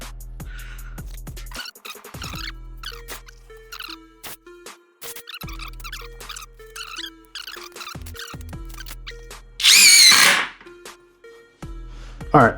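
A drill drives screws into a wooden workbench leg, with a 5-inch block clamped under it. Several whirring bursts rise and fall in pitch, followed by a short, loud rushing burst near the end.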